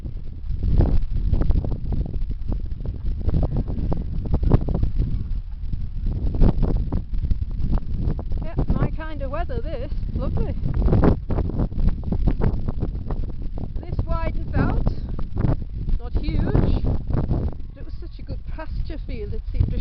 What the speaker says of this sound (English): It's so windy you probably can't hear me.